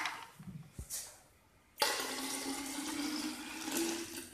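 Water is poured out of a drinking glass in a light-refraction demonstration: a few soft knocks, then a sudden steady gush of splashing liquid that continues to the end, close and moderately loud.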